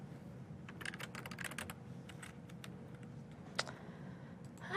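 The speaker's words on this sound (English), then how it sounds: "I'm just having a lot of trouble typing" Fast, uneven typing on a computer keyboard clatters in quick bursts of key clicks over a low steady room hum, with one sharper click standing out near the end.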